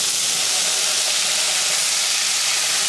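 Hotpot base and Sichuan peppercorns hit a hot wok for a spicy pork-intestine and fish hotpot, giving a loud, steady, broad sizzling hiss that holds evenly throughout with no voices.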